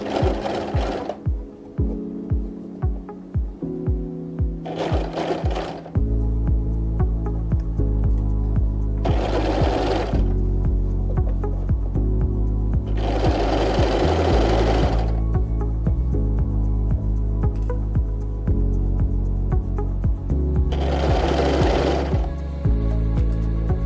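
A sewing machine stitches piping onto a garment. It opens with a rapid, rhythmic needle chatter, then settles into a loud, continuous motor hum broken by several louder bursts of fast stitching.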